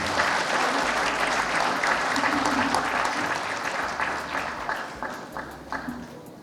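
Audience at a government event in Osun State breaks into sustained applause, many hands clapping densely and loudly, then easing off and growing sparser toward the end.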